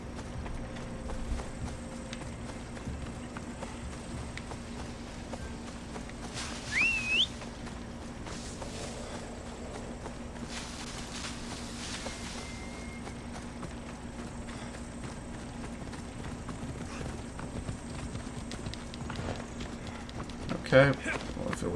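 A horse galloping away in the video game Assassin's Creed Odyssey: soft, rhythmic hoofbeats run on over a low, steady game ambience, with a few short whistle-like chirps and a louder thump near the end.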